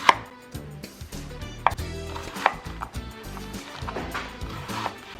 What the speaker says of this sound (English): we're going to finely chop this onion